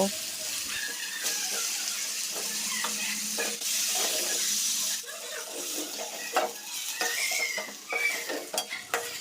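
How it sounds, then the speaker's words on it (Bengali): Eggplant pieces fry in oil in a wok, a close, quiet sizzle punctuated by frequent scraping stirs and clinks of a spatula against the pan. "এরপরে আমি বেগুনগুলোও ভেজে তুলে নেব"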